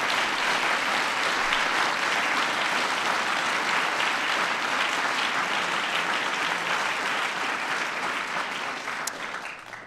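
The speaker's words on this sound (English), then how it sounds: "that's worthy of applause" Sustained, loud audience applause at a National Medal of Science ceremony with President Obama, a dense, even wash of clapping that tapers slightly near the end.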